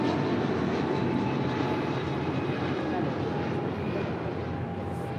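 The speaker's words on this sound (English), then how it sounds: "United Airlines Flight 1093 coming in from Denver, Colorado, the 757-300" A United Airlines Boeing 757-300 in from Denver at LAX, its jet engines a loud, steady broadband roar that holds constant throughout, with no talk.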